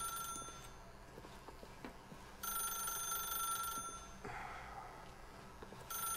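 A telephone rings in The Stanley Parable, its bell trilling in repeated bursts over a low game-ambience hum, fairly close and steady with no talk.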